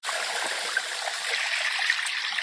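A mountain stream or waterfall rushes steadily and loudly with a dense, unbroken hiss of flowing water and no voices.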